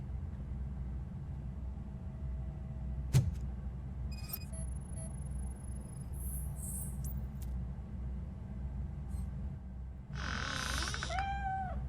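A cat in RoboCop: Rogue City gives a short meow near the end, rising out of a low ambient rumble with a few faint scattered clicks and tones before it.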